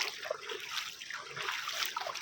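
A stream of water runs through farm fields, a steady close trickling and gentle splashing flow, heard alone and fairly faint.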